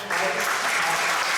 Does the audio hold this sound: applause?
yes